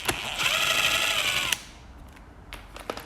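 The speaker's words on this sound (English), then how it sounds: "I'm just using my little impact gun." A small impact gun winds a bolt onto a Mk2 Ford Escort, a loud continuous whirring buzz for about a second and a half that cuts off abruptly, followed by faint clicks and handling noises.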